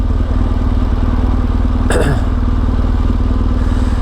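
A motorcycle cruising along a national road between Serbia and Hungary, its steady engine drone continuous and close throughout, with a brief scraping clatter around the midpoint.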